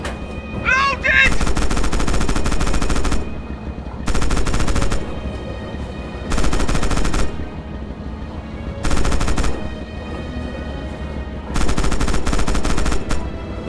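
A tank's guns and machine guns in Red Orchestra 2 fire loud, close bursts that come in repeated sustained volleys with short pauses between them, and a brief voice is heard near the start.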